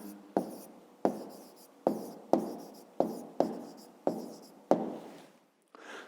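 A pen writes on paper in a math lesson, producing about eight distinct strokes in a steady rhythm, each a sharp scratchy onset that trails off, close and fairly loud with no talk over it.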